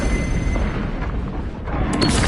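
A krak grenade in Space Marine 2 detonates as a heavy, rumbling boom. The blast rolls on through the whole moment and swells again near the end, with no voices.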